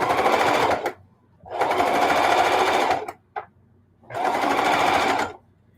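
A sewing machine stitches binding onto a quilt at a mitered corner, running in three loud, even bursts of rapid needle hum separated by short pauses, close up with no voice.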